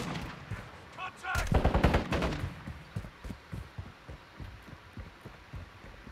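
Gunfire from AI enemies in a Call of Duty video game, with a loud burst of rapid shots followed by repeated pulsing shots, while a voice talks faintly at points.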